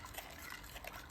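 Sugar and milk being stirred in a pot over low heat for homemade condensed milk, heard as a brief, close, wet sloshing and liquid churning with no talking.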